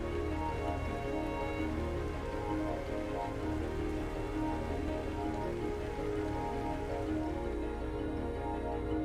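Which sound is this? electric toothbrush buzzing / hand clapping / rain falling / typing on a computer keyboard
rain falling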